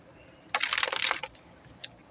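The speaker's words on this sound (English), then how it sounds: "I want to give this a couple of extra good shuffles" A brand new deck of playing cards gets a brisk riffle shuffle, a dense fluttering burst of card snaps lasting under a second, followed by a single soft tap, close up in a quiet room.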